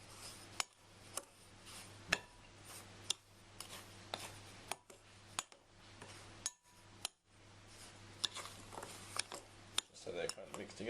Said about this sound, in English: just mix them together with a spoon